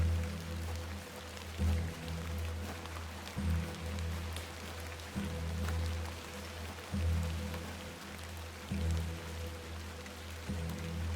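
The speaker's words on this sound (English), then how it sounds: "Let's get out of the rain." Rain falling in the video game The Excavation of Hob's Barrow, a soft continuous patter over a low droning ambience with faint recurring thumps, steady and fairly quiet throughout.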